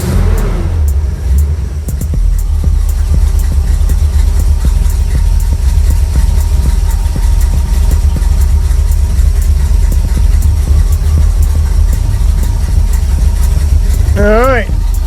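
Cadillac engine, fitted with a carburetor, runs loud and close in a steady idle with a deep rumble throughout, and a person speaks briefly near the end.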